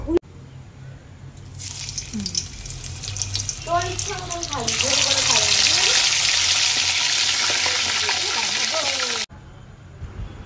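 Steady sizzling of food frying in a pan, growing louder midway and cutting off abruptly, with a brief voice and clinking early on.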